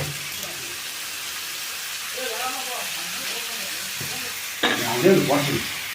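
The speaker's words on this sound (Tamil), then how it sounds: "இப்போ பாருங்கள், உருளைக்கிழங்கு போட்டாச்சு. அது கொஞ்ச நேரம் ஒரு வதக்கணும்" Potatoes sautéing in a pan for a crispy potato fry, a soft steady sizzle with occasional stirring scrapes, growing louder and busier toward the end, with no talk over it.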